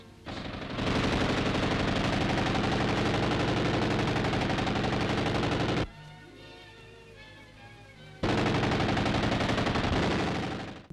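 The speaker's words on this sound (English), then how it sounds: "the BREN, a nasty little Spitfire that can spew out bullets at the rate of 480 rounds a minute" Two long, loud bursts of rapid automatic fire from a .303 British BREN Mk.3 light machine gun, the first about five seconds and the second about three, separated by a short lull with ringing echo.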